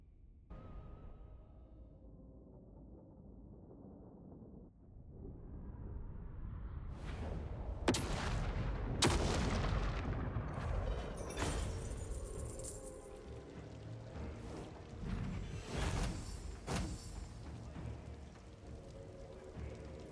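Cannons, gyro bombers and thunder barges fire in a dwarf battle in Total War: Warhammer 3, starting quiet then erupting into a dense run of sharp blasts and rumbling explosions that keep cracking out loudly.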